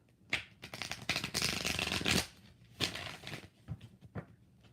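Tarot cards being shuffled up close, a run of crisp riffling and flapping bursts with brief pauses between them.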